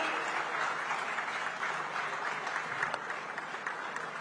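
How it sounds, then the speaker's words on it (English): Steady applause from a large audience, dense continuous clapping that holds at an even level throughout without pause. "this is time for a big round of applause."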